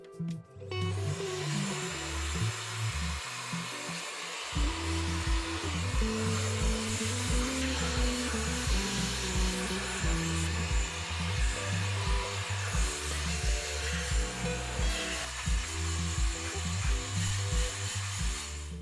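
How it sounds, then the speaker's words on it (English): An electronic air duster blows a steady, loud rush of air to clear dust off a prototype Xbox Series X Digital shell, hissing continuously for most of the stretch over rhythmic background music. "A little bit of dust, and we can use our electronic air duster to remove that."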